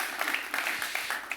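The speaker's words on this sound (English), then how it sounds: "I'm going to make you all clap for Unhosted." An audience claps at a bitcoin mining forum session, a steady mid-distance patter of many hands filling the room with no break.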